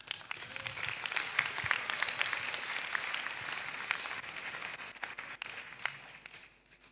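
Applause from an audience in a hall at a launch event: a steady, dense wash of many hands clapping at moderate distance, holding for several seconds before tapering off at the end.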